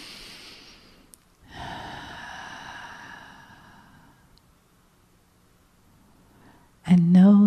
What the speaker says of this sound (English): And take another breath.